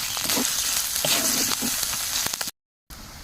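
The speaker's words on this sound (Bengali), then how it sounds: "ভাজা হয়ে এসছে মশলাটা দিয়ে দেব গোলমরিচ আর শুকনো লঙ্কা বাটা" A ground spice paste with chopped green chilli frying in just a little oil in a pan, giving a loud, continuous crackling sizzle that briefly cuts to silence near the end before resuming.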